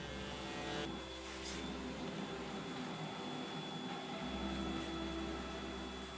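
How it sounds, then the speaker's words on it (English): A steady whining motor drone runs throughout, loud and continuous, with a brief dip in the low rumble midway as the machine shifts. "Using the vacuum cleaner again."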